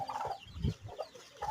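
A native mother hen with one-week-old chicks gives soft, faint clucks and short calls in a few quick bursts. They sound close by, and no one talks.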